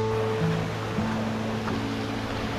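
Water rushes steadily at Puray Falls in Rodriguez, Rizal, a continuous broadband roar of falling water that stays even and close for the whole stretch, with no talking.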